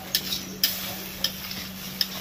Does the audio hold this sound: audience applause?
no